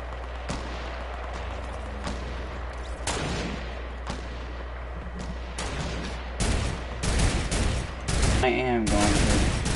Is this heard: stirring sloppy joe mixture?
no